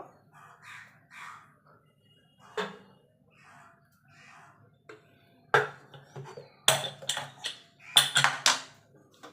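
Boiled jackfruit seeds drop into a metal pressure cooker in a few close bursts of sharp clattering, after a quieter stretch of faint kitchen sounds.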